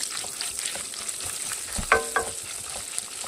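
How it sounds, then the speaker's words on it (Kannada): Onions frying for a crab curry masala, giving a steady close sizzle with a couple of sharp utensil clinks or scrapes partway through and no voices. "ಈಗ ಇದಕ್ಕೆ ಈರುಳ್ಳಿ ಹಾಕ್ಕೊಂಡು ನಾನು ಮತ್ತೆ ಫ್ರೈ ಮಾಡ್ಕೊಳ್ತಾ ಇದ್ದೀನಿ."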